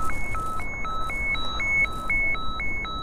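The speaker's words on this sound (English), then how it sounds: "sending this alarm" An Icom IC-M85E VHF marine radio's man-down emergency alarm alternates rapidly between high and low beeps, repeating steadily and loudly over a low background hiss.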